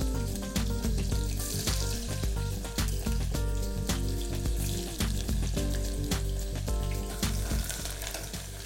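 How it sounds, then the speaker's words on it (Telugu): Onions frying in oil with whole garam masala for a vegetable pulao, a steady close sizzle with soft crackles and faint clatter, no voices. "ఇప్పుడు ఇందులో ఉల్లిపాయలు వేసేసుకుందాం."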